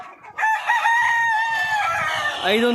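A rooster crows loudly and close by, one long drawn-out call that breaks into a rising cluck at the end.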